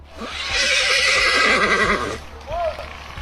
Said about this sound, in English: It suddenly stopped, refusing to move, and let out nervous sounds while staring at one spot